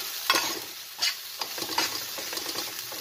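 Surmai fish fillets fry lightly in a hot pan with a steady, close sizzle, broken by a few sharp scrapes and clicks as a spatula stirs and turns the pieces.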